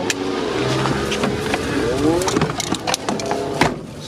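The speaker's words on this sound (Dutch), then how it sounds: "Pas op, er komt een motor aan." A motorbike engine approaching and revving, heard as a steady rising mechanical drone over a busy street-like background, with voices talking over it.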